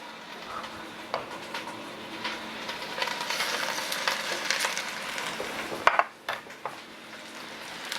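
Roulades of meat sear in a hot pan, giving a steady, close sizzle with occasional stirring and utensil clinks and a louder clatter near the end.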